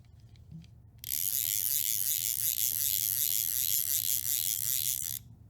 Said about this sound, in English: it does have a reasonably decent click on the outgoing